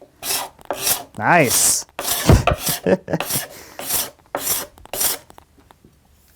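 Card scraper drawn across a wood board, raising wispy shavings: a series of short raspy scraping strokes, close and fairly loud, with a brief spoken word.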